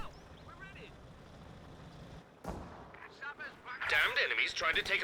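Mortar barrage in Company of Heroes 2, with a heavy thud landing midway and further muffled impacts and battle noise following. Someone talks over it throughout.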